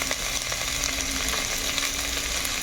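Cabbage paste with green chilli, garlic, salt and turmeric frying in a pan, heard as a dense, close, continuous sizzle with faint stirring, steady and without talk.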